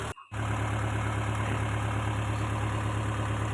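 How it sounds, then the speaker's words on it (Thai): A belt-driven engine water pump with three belts draws water up from a pond, making a steady, loud, unbroken engine drone that starts just after a brief dip at the beginning, with no talking. "อันนี้ครับสูบน้ำขึ้น"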